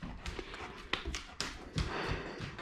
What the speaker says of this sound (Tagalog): Pasensya po sa aso ko.